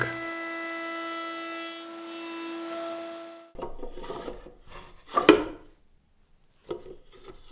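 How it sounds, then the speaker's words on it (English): Rounding over the upper edges of a wooden cabinet: a steady, humming motor tone for a few seconds cuts off, then come intermittent rasping, rubbing strokes on wood, close and fairly quiet. "I'm giving a nice round over for the upper edges of the cabinet and for the sides of the drawers."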